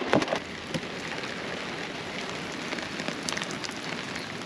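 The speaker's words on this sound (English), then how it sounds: "it finally started raining" Steady rain patters on a hard surface, a constant wash of drops with a few sharper taps near the start, no voices.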